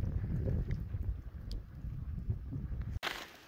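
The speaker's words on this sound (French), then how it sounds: "Par contre c'est au vent." Wind roars steadily at a partly frozen mountain lake in the snowy Belledonne range, a low, buffeting rumble close to the microphone that briefly cuts out near the end.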